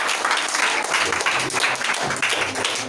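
Church congregation applauding, dense continuous clapping with rhythmic pulses throughout, close and lively.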